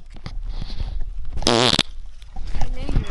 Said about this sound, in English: Because I want to smell the damn fart.